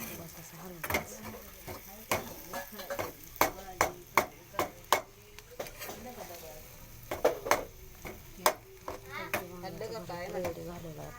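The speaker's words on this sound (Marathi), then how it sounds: "कोथिंबीर घालून बस असं हलवायचं." A spoon stirs fresh coriander into smoky mashed eggplant bharta in a pan, making repeated soft scrapes and taps in an uneven rhythm, with a voice speaking quietly underneath.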